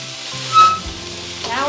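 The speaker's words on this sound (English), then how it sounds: "And we're gonna add some hot chili peppers." Hot chili peppers being stir-fried for kung pao chicken, a loud close sizzle with stirring scrapes in a short burst and no voices.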